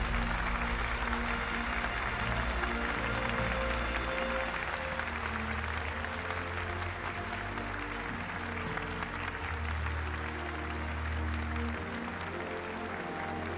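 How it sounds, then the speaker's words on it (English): A large audience applauds the third-place Subaru team at the Gran Turismo World Finals in Fukuoka, a dense, sustained wash of clapping that holds steady throughout, with a low hum of the event hall underneath. "A huge round of applause here for the third place team of Team Subaru"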